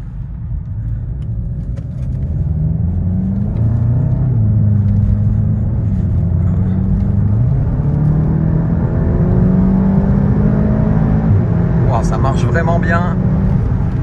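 Volkswagen Golf GTI TCR with its 290 hp engine accelerating in sport mode, a loud cabin drone rising through the gears with brief shift dips, while a person talks over it.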